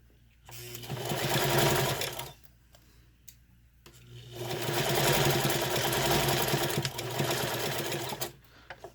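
A sewing machine stitching a zigzag seam on a zipper pouch runs in two loud bursts of steady mechanical whirring and rapid needle chatter, separated by a short quiet pause, close up with no talking.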